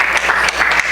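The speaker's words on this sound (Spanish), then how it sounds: "Un aplauso a los discípulos, hombre." Short burst of close, loud clapping from a church congregation applauding during a bilingual Spanish-English sermon, with rapid overlapping hand claps.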